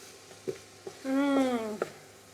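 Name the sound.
stirring and toasting jambalaya ingredients in a pan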